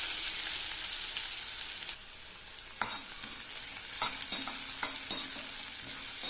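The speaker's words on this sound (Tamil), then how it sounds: "வெங்காயம் நல்லா பச்சை வாசனை போகணும், அந்த அளவுக்கு நல்லா வதக்கிக்கணும்" Chopped onion sautés in hot oil in a pan, giving a soft steady sizzle broken by several sharp stirring clatters and scrapes from a spoon.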